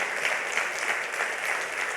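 A church congregation claps steadily and strongly in praise of Jesus, a dense wash of many hands sustained evenly throughout with no voices over it.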